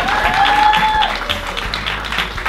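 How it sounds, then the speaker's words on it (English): An audience at a women's faith and business weekend event gives a round of applause, a dense burst of clapping with a faint tonal whistle or feedback in the first second. "Can we give my mommy a round of applause?"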